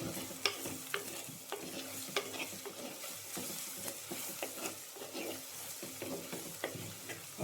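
Spice powder roasting in a pan for a Kerala-style meat roast, with soft frying sizzle and repeated scraping of a spoon stirring against the pan, quiet and close.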